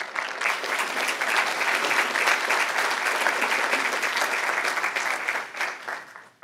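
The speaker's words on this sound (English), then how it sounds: "I may even ask you to stand so that we can, if you wouldn't mind, and applaud you, Gretchen." An audience applauding at a university talk on positive deviance, many hands clapping in a dense, sustained burst that builds quickly, holds steady and tapers off near the end.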